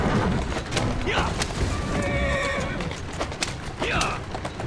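A horse whinnies loudly twice, high and shrill, over constant rumbling game noise and thuds in Assassin's Creed Syndicate.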